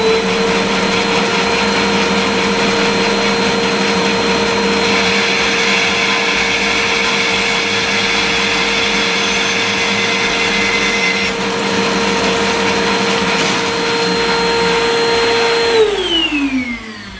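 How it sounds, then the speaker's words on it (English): A SIP 01444 14-inch professional bandsaw cuts a wooden mitre at 45 degrees, giving a loud, steady motor whine and blade hum. The tone shifts slightly mid-cut, then the motor winds down at the end. "you can see the lovely crisp mitre that the saw has just cut"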